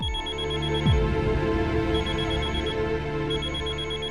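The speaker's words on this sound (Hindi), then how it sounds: "लीजिए, बैंक वालों के फोन आने शुरू हो गए।" A telephone rings loudly and steadily with a shrill electronic tone, alone and without talk, beneath a low descending musical swoosh at the start.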